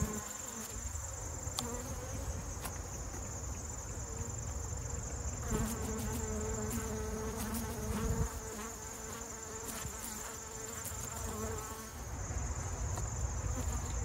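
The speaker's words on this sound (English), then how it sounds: "the bees usually get kind of mad at me" Honey bees swarm around a freshly opened hive on a farm, a dense steady buzzing from many insects close by that holds for the whole stretch with no talk over it.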